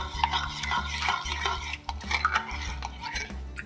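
A utensil stirs hot soup into beaten eggs in a bowl for meatball egg-drop soup, scraping and clinking steadily against the sides in a close, continuous rhythm with no talking.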